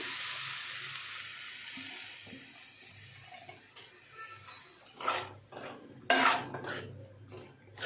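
Sprouted moth beans and potato go into a pan of fried spices and are stirred, giving a few scraping clinks of utensil on metal over a low background sizzle.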